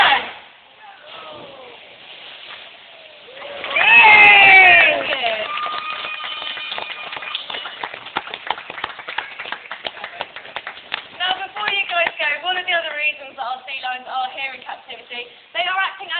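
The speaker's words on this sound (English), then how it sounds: "big countdown, massive clap and cheer if he hits this jump" An audience at a sea lion show bursts into clapping and cheering after a jump, a dense patter of applause rising over a crowd, with a voice heard beforehand and voices mixed into the noise.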